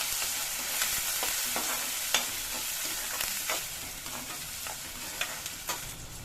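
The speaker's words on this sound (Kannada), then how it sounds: "ಶುಂಠಿ ಬೆಳೆ ಪೇಸ್ಟ್ ಹಾಕ್ತೀನಿ ಶುಂಠಿ ಸರಿ ಸ್ವಲ್ಪ ಈರುಳ್ಳಿ ಹಾಕೊಂಡ್ಬಿಡ್ತೀನಿ ಫ್ರೈ ಮಾಡ್ಕೊಂಡ್ಬಿಡಿ" Ginger paste and onion frying in a pan, a continuous close sizzle with scattered scrapes and taps of a spatula stirring at an irregular pace, no speech.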